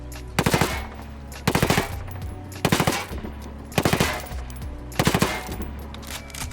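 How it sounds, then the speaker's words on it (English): An MP5 submachine gun firing in Ghost Recon Wildlands, five loud, close bursts of rapid automatic shots, each about half a second long, evenly spaced with short pauses between them, and no talk. "This is the MP5."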